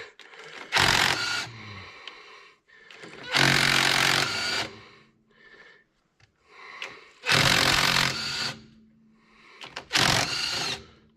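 A small power driver loosens a drain plug on a Caterpillar D8K crawler tractor during transmission and final drive service, four loud rattling bursts of a couple of seconds each separated by short pauses, with a few faint sounds in between.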